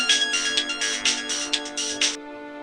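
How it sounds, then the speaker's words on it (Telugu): Melodic mobile phone ringtone for an incoming call plays in repeated bright bursts, close and clear, then stops abruptly with a faint tail. "అసలు ఏం జరిగిందంటే, అది శృతి ఫోన్ చేస్తుందండి."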